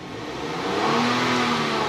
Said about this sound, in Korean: 지금 이렇게 파킹 놓고 공회전 한번 돌려도